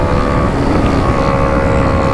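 Motorcycle fitted with a Racefit Alpha semi-pure-sound exhaust, heard as a loud, steady engine drone that holds an even pitch throughout without distinct rev spikes.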